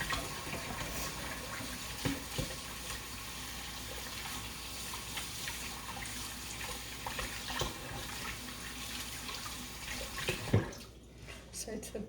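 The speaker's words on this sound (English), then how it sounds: "I'm going to wash my hands and get them ready to go in here." A kitchen tap runs steadily for hand washing while vegetarian garbanzo and black bean patties are being prepared, a continuous close hiss and splash that stops near the end, with brief clatter.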